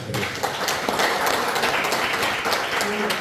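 An audience in a small seminar room at the National Assembly members' building claps steadily, a dense, close wash of applause with some voices mixed in.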